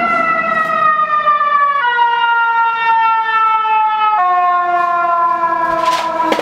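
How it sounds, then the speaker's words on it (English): A loud emergency siren wails close by in steady stepped tones that drop in pitch in stages, filling the whole stretch with no talking over it. "Siren is so rude, hold on."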